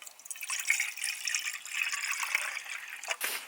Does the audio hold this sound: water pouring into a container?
yes